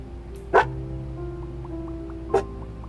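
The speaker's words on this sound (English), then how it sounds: "Arco, my dog is going nuts about something." A dog in the room gives two short, sharp barks about two seconds apart, close and fairly loud, over quiet background game music from a supermarket simulator.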